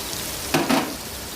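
A tomato drops into a hot pan of frying pasta sauce base, giving a steady sizzle with two quick bursts of louder crackling.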